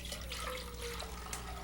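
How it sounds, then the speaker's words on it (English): Vegetable stock and salt poured into a cooking pot on the stove, a soft, quiet trickle and splash of liquid that runs steadily without pause. "We're going to slip our water into our pot along with our salt"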